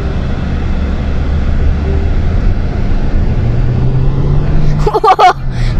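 An MG SUV accelerates hard, heard from inside as a steady low engine and road drone whose pitch climbs gradually. A brief voice-like sound rises near the end.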